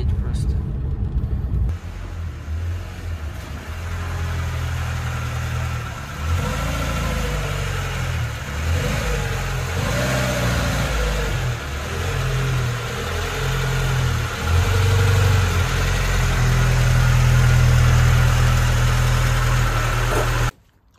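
A VAZ 2106 car's engine rumbles steadily at low pitch as the car pulls into a garage, a continuous close drone lasting about twenty seconds with someone talking over it.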